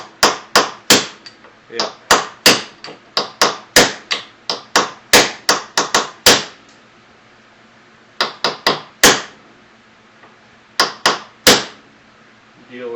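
A 2008 Jeep JK door hinge being hammered back into place, with sharp metallic blows landing in quick bursts separated by short pauses, loud and close, and a brief spoken word in between.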